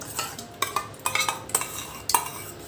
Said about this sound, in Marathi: आता मी या पातेल्यामध्ये दही घालून घेते